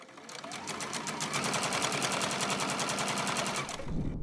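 A sewing machine back-stitches a purse seam, its needle running in a fast, steady, close-up rattle for about three and a half seconds before stopping abruptly.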